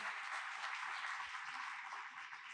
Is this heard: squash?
no